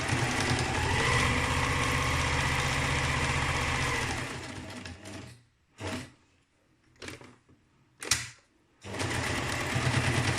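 A sewing machine stitches a thick fabric face mask, running in one loud continuous whir for about four seconds, then stopping and starting in several short bursts before running again.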